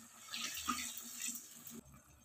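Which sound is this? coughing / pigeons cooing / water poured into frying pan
water poured into frying pan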